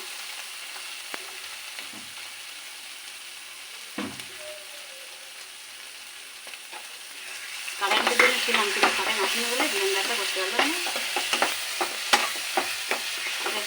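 A spice paste for chicken roast is fried in a pot, starting with a voice speaking over quiet kitchen noise, then breaking into loud sizzling with repeated spoon stirring and scraping for the remaining seconds.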